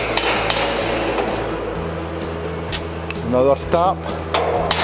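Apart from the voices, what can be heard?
hammer tapping winch assembly into position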